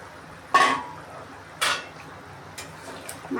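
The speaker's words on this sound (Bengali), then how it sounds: "মাছগুলো দিয়ে একটু নেড়ে চেড়ে দিয়ে আর কিছুক্ষণ হোক।" Fried fish is dropped into a pan and stirred with a utensil while cooking a pumpkin and fish dish. Three sharp metallic clatters sound about a second apart over a quiet kitchen background.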